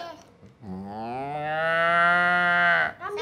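A cow gives one long, loud moo that holds steady for about two seconds, close by, with no talk.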